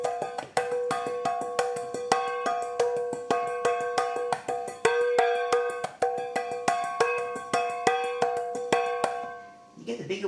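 Metal mixing bowls of different sizes are struck in a quick, steady rhythm, each hit a bright bell-like clang that rings on. The strikes continue for several seconds, loud and close, then trail off into a softer rustle.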